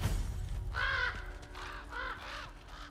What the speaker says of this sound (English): Ravens, crows, whatever one it is.